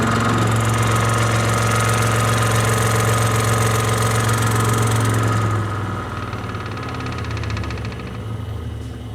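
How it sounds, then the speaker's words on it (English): A DeWalt 788 scroll saw running fast while cutting wood gives a loud, steady motorized drone with a strong low hum, then drops to a quieter, smoother running tone partway through as the cutting eases. "it gets a little more exciting here when you crank the speed up on the saw"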